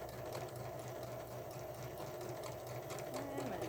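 A Huskystar sewing machine stitches fabric slowly and steadily, with a continuous close motor hum throughout.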